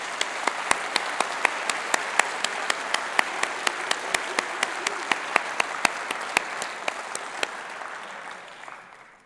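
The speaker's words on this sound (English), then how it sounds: "Let's give them a round of applause." A hall full of delegates at the Conservative party conference applauds, sustained, even clapping from a large crowd that holds steady for most of the stretch and then fades out near the end.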